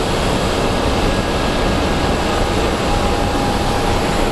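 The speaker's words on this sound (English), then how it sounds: "I think he might actually be our next plane to take off." Arizona Cardinals charter jet taking off at Phoenix Sky Harbor Airport, a loud, steady engine roar and broadband rush held close throughout, with no speech.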